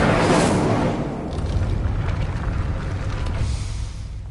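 Incendio fire spell cast in Hogwarts Legacy, a loud rumbling whoosh of flame with a low roaring boom that starts strong and sustains steadily throughout, no talking.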